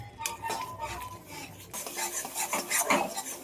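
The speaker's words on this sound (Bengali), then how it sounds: "এবার এটাকে ভালো করে নেড়ে নেড়ে শুকিয়ে নিতে হবে।" Ground bottle gourd leaf paste with salt, turmeric and a little sugar is stirred in a pan with a utensil, making repeated close scraping strokes and light clatter against the metal, with a faint sizzle underneath.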